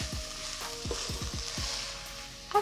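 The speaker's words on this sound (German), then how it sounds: "Schön umrühren, bis das Tomatenmark sich überall verteilt hat." A spoon scrapes and stirs through braising cabbage with tomato paste in a cooking pot, a handful of distinct strokes over a soft continuous sizzle, with no talking.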